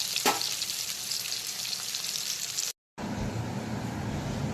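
Katla fish frying in a pan of oil with a steady, close sizzle, cut by a brief silent gap, then resuming with heavier bubbling.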